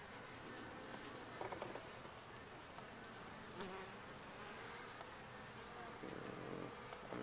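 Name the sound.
honey bees buzzing during hive inspection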